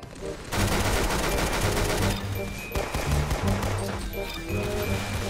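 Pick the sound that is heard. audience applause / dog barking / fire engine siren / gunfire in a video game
gunfire in a video game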